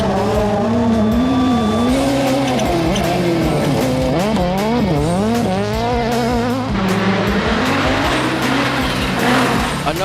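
Rallycross race cars compete at Pradera Verde in Lubao, Pampanga, during the Philippine Rallycross Series. Loud, close engines rev up and down continuously, with rising and falling pitch and occasional tire squeal.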